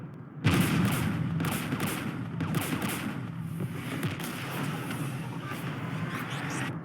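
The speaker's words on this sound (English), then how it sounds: "We're taking fire." Gunfire from the Mass Effect 3 video game in a battle near a jamming tower guarded by Geth anti-aircraft guns, as sustained dense shooting under a steady rumble that runs almost the whole time without letting up.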